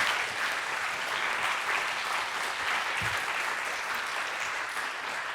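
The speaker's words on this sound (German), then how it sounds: "Einen großen Applaus für unsere Wissenschaftlerinnen." A studio talk show audience gives scientists a big round of applause, dense steady clapping that fills the whole stretch without pause.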